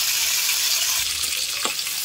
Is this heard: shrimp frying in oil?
yes